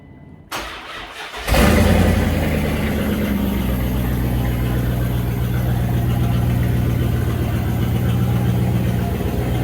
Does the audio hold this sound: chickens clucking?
no